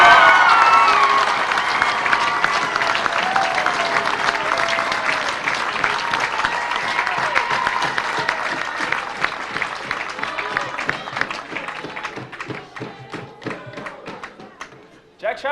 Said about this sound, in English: I'd like to hear a big cheer for the irrepressible Tommy Howard.